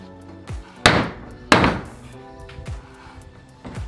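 Hammer blows nailing tongue and groove ceiling boards over a deck: two loud, sharp strikes stand out amid several lighter knocks and thuds, close by.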